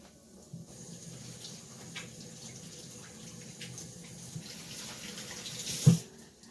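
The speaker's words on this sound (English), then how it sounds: "Rinse my hands." Hands rinsed under a running kitchen tap while cooking Italian arancini rice balls, a steady close water splash that ends with a sharp bump as the tap shuts off.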